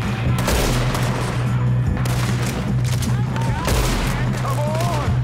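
Dense, continuous volleys of gunfire roll through a Red Dead Redemption 2 shootout, with shouting voices in the mix.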